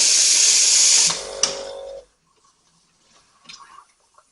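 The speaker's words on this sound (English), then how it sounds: "our first part of our process with this is just to clear the residue from the steam wand" Delonghi La Specialista espresso machine steam wand purging residue with a loud, close hiss for about a second, then a weaker sputtering burst that cuts off, leaving faint handling noise.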